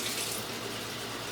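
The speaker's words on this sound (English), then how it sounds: "I take my jars and start filling them with water" Tap water runs steadily into glass jars in a sink, a close, continuous rushing splash with no talking.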